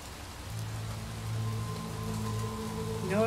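Rain falls steadily in the video game Little Nightmares 2, a dense continuous patter on surfaces with a low ambient hum beneath and no voices.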